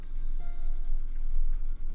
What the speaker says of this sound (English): If I keep sanding it for just a little bit longer, I might actually get rid of it.